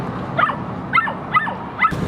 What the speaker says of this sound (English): there's another dog barking at us over here.